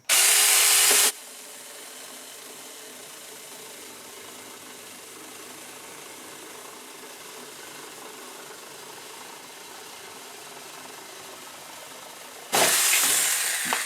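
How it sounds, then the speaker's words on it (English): A Saker 4-inch mini chainsaw cuts through a 2x4. It opens with a loud, high motor whine, settles into a steadier, lower drone through the cut, and rises to a loud whine again at the end. "I'm just showing you that it can cut through a piece of 2x4 very easily"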